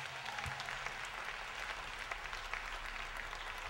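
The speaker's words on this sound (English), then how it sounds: "clap your hands" A crowd at a spoken-word poetry performance claps hands along, a continuous moderate patter of clapping with a low hum underneath.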